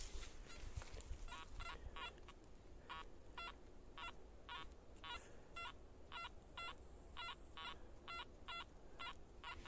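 A metal detector sweeping a field while digging for old coins gives a steady run of short, evenly spaced electronic beeps, repeating about twice a second over a constant outdoor noise floor, with no talk.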